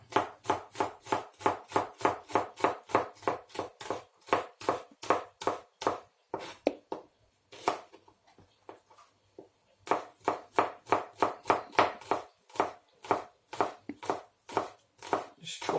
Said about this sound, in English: I'll carry on chopping with my potol